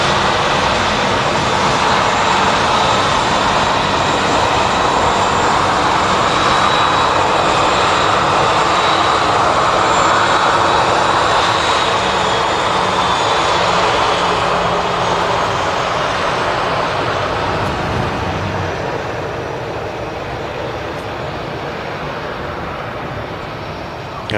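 An EasyJet airliner passes at Manchester Airport, its jet engines a loud, steady broadband roar that holds for most of the time and eases slightly toward the end.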